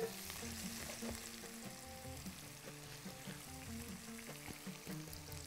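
Food fries in very hot oil for Bahraini biryani, a steady, dense crackling sizzle close by, with faint stirring knocks underneath and no voices.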